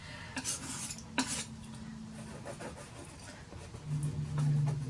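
A palette knife scrumbling acrylic paint onto canvas for texture, soft scraping and dabbing strokes with a few light metallic taps, close and quiet, with no talk.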